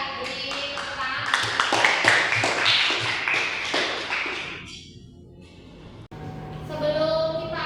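Students in a classroom clap together in a quick burst of close, rapid applause that fades over a few seconds, followed by a teacher's voice.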